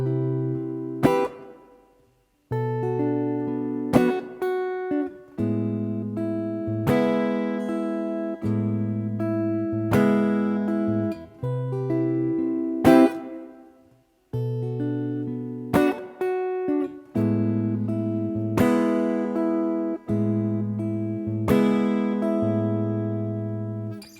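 Slow guitar chord progression played alone with sustained, ringing chords struck one after another with short gaps between changes.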